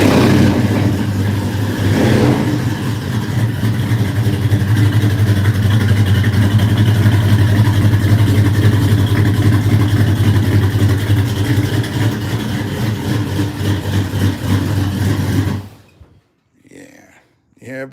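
A rebuilt LS1 V8 engine in a car roars loudly and steadily for about fifteen seconds, rumbling deep and close, then cuts off abruptly, after which a voice is heard briefly.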